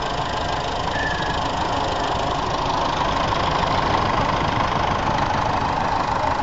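Steady, even idling of a 1957-era Ferguson 31 farm tractor engine, running continuously and close by with no change in pace and no talk.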